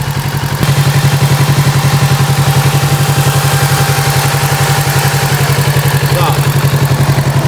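A 2022 Kawasaki Z650RS motorcycle with 999 km on it idles steadily when warm, its engine giving a loud, even, close-up thrum with a fast regular pulse that holds for the whole stretch.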